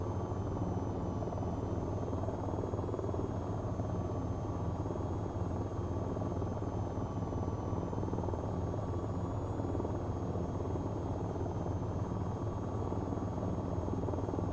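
A VTOL jet in the flight game VTOL VR holds a hover, giving off a steady, loud engine drone with a constant high whine that runs unbroken for the whole stretch, and no voices are heard.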